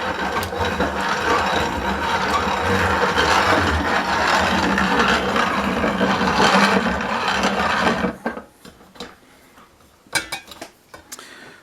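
A grain grinder crushes nixtamalized corn for tortillas on the first grind, a loud, steady, coarse churning roar that runs for about eight seconds, then cuts out, leaving a few scattered knocks and clatters.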